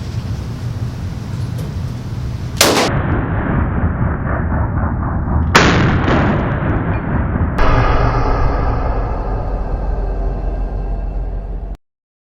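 Gunfire at a shooting range, with loud close blasts that leave long booming echo tails, about three shots spread over several seconds, then a sudden cutoff.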